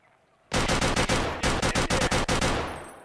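Automatic gunfire in the shooter game Escape from Tarkov: Arena, with a shotgun also in play: a loud, sharp burst of rapid shots in quick succession that begins abruptly, pauses briefly, then continues and decays into echo.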